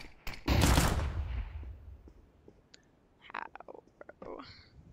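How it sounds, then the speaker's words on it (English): A flashbang grenade going off in the Counter-Strike 2 video game, a loud burst with a hissing fade early on, followed by scattered game clicks and faint shots. "Flashbang out."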